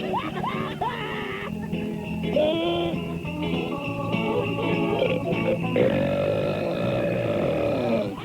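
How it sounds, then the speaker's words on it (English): Loud, drawn-out belches close up, rising and falling in pitch like scat singing, one after another over a busy background. "Scat burping."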